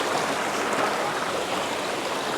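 Stream water rushes and babbles steadily around hikers crossing it on the way to Twin Falls, a continuous broadband wash close by with no talking.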